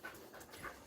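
A dog panting softly and rapidly up close, quick breathy huffs in a quiet room, faint and alone.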